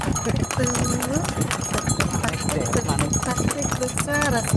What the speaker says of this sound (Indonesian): pasti bersuara sepatu kuda